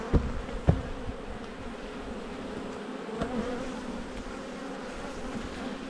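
Honeybees from a strong, somewhat defensive colony swarm around an open hive, making a steady, dense buzz that fills the whole stretch with a few closer passes early on. No one speaks.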